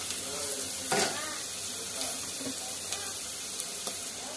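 Okra sizzles steadily as it fries in a pan, a continuous crackling hiss with a few sharper stirring clinks and spikes scattered through it, fairly close, with no talk over it.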